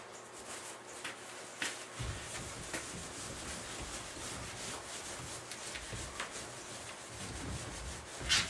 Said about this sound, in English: Let me take my high-tech eraser here.